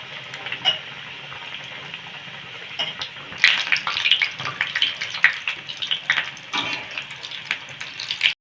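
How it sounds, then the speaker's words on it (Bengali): Potato chops coated in gram flour batter fry in hot oil, starting as a quiet hiss and breaking into a dense, lively bubbling crackle after a few seconds, close and continuous. "গরম তেলে ছেড়ে দিতে হবে। দেখতেই পাচ্ছেন যে কতটা সুন্দর ভাজা হচ্ছে এবং কতটা সুন্দর ফুলে উঠছে।"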